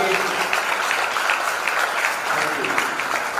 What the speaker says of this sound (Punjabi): ਇੱਕ ਵਾਰ ਜ਼ੋਰਦਾਰ ਤਾੜੀ ਉਸ ਪਰਮੇਸ਼ਵਰ ਦੇ ਲਈ